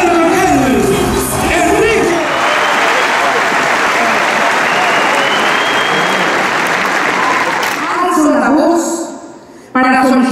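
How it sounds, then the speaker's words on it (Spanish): Supporters at a political campaign event shouting and applauding as a candidate enters: a roaring, continuous wash of clapping and cheering crowd noise, voices rising over it early and again near the end before it cuts off. "ingresó al recinto en medio de gritos y aplausos de apoyo"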